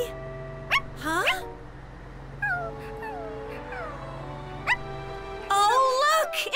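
A small dog whimpers and yips in short high-pitched bursts, with a voice imitating the cries and soft music playing underneath.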